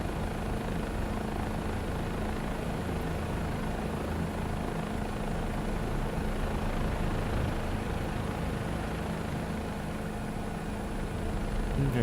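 A helicopter in Microsoft Flight Simulator drones loud and constant as its engine and rotor overspeed, a dense, unbroken mechanical roar that holds steady for the whole stretch.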